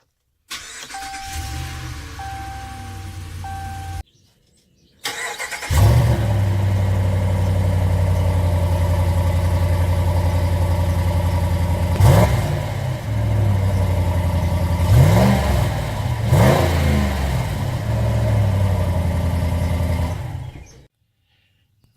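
A 2018 Ram truck engine with the stock airbox starts, settles into a deep steady idle, then gives several quick revs that swell and fall back, loud and close with no talk.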